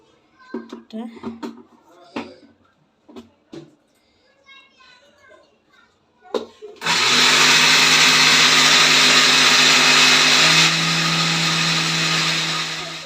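After some brief talk with pauses, a mixer grinder roars to life nearby, grinding roasted rice and lentils into powder loudly and steadily for several seconds, its pitch shifting partway through.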